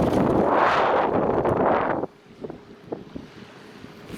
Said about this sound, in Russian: Ветер поднялся, просто кошмар. Барашки, пена. Вот оттуда дует с такой силой, просто жуть.